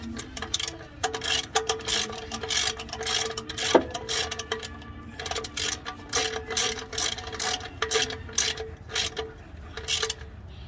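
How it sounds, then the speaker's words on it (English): A ratchet tightening an oil drain plug bolt during an oil change clicks in quick rapid bursts, close and fairly loud, with brief pauses between strokes. "tighten it with a ratchet or a wrench, nothing else"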